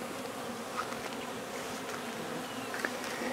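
Steady, dense buzzing of many honeybees at hives in a bee yard fills the air, a soft continuous hum with occasional individual insects passing closer.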